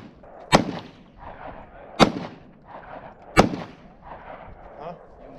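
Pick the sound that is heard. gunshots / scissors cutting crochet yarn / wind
gunshots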